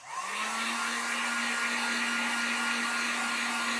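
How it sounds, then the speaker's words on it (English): A heat gun blowing over wet acrylic paint on a spring sign, a steady close whirring hiss with a constant motor whine that starts at once and runs unbroken, no talk. "let me hit this with the heat gun real quick"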